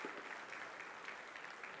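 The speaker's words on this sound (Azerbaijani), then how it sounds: "Alqışlar." Audience applause at the close of an investment panel discussion, a steady, faint patter of many clapping hands heard from a distance.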